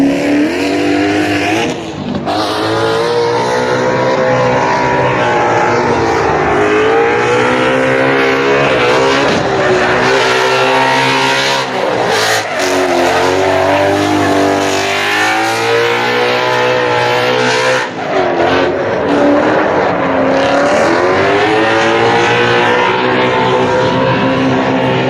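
Loud engines rev and accelerate past one after another at an import car drag racing event, including Ford Focus STs, rising and falling in pitch with a constant roar and occasional tire noise.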